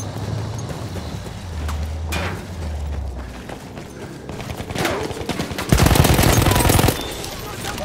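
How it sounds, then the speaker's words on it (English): Enemy machine gun fire in a Battlefield 1 cavalry multiplayer match, a dense burst of rapid shots swelling loud in the middle of a noisy battlefield din, with hoof and mechanical sounds around it. "There's an enemy machine gun!"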